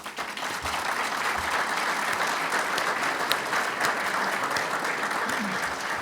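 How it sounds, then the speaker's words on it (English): An audience at a foreign-policy conference in Serbia claps steadily and continuously to greet a guest, dense sustained applause filling the hall from start to finish. "I was about to invite you to greet our guest with the applause"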